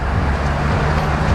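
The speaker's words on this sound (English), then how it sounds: "All people going by in their cars" Traffic from a mill village street drones steadily past a front porch swing, a continuous loud road rumble with no clear individual passes and no talking.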